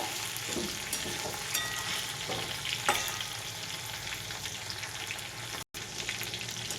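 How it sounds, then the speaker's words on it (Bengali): Steady, loud sizzle of hilsa fish frying on its second side in hot oil, a continuous crackling hiss with a brief dropout near the end. "দ্বিতীয় পিঠটাও আমি এইভাবেই ভেজে নেব।"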